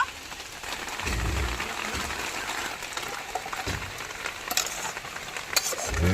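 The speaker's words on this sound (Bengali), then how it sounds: "আকাশও মেঘ করেছে আর বৃষ্টি পড়াও শুরু করে দিল" Rain falling outdoors, a steady soft patter and hiss with occasional heavier drops and thuds, moderately near and continuous.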